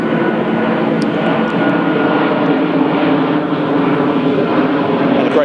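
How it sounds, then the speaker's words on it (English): A loud airplane passes overhead above a carp-fishing lake, its steady engine roar filling the air without a break. "And a great big loud plane, which always comes as soon as I start talking."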